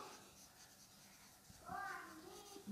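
Pen or marker writing during a class 7 maths lesson on cloth profit, with short scratchy strokes in the second half; a voice may be faintly heard.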